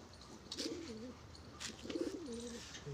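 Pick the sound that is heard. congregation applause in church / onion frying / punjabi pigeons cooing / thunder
punjabi pigeons cooing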